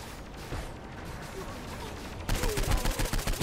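SMG fire in Saints Row IV: after a stretch of quieter game noise, a rapid rattling burst of automatic shots starts and carries on loud to the end.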